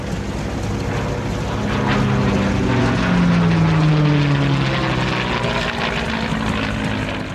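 A World War II P-51 Mustang's propeller engine drones loudly and steadily nearby, a deep throbbing roar with a slow pitch sweep as the fighter passes, alone with no voices.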